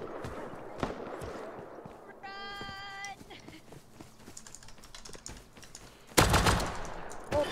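Gunshots ring out in the survival shooter Rust as sharp, scattered reports with one loud close blast near the end, mixed with keyboard clatter and someone speaking.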